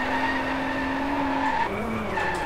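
Sustained tire squeal from a car skidding under handbrake in the racing game DriveClub, a steady high-pitched screech that shifts pitch midway and keeps going over engine drone, loud and close.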